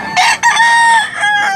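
A bullstag rooster of Kilso bloodline crows close and loud, one long drawn-out call with a sharp start, a brief break, then a sustained wavering tail, with no voices over it.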